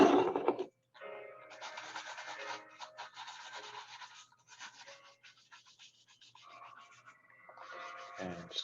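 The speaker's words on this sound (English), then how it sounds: "So I'm going to do that with the brush." Brush rubbing conditioner onto calf leather shoes, a close series of dry bristly scrubbing strokes with short pauses between passes, alone without talk.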